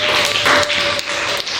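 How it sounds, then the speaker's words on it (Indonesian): Applause in a classroom for a student during an Islamic religious studies lesson on the Quran and Hadith: dense, steady clapping filling the short moment at a fairly loud level, with no talk over it. "tepuk tangan buat teman kita"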